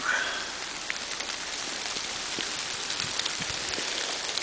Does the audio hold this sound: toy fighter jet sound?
no